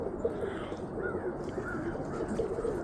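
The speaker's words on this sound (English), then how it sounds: "just out here feeding the birds" Roller pigeons coo softly at a loft while being fed, with low burbling calls over faint background noise, fairly quiet and close, no talk.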